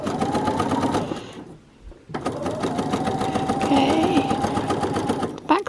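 Sewing machine stitching along a fabric edge while sewing binding on a McCall's 7810 garment, running continuously with a brief pause then resuming, close and loud, with faint talk mixed in.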